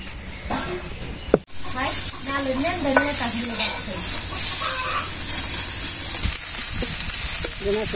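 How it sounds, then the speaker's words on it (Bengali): Home-grown bitter gourd frying in a pan in a home kitchen gives a steady hiss and crackle throughout, while chickens cluck nearby and a sharp knock sounds early on. "এখন হলো করলা ভাজতেছি"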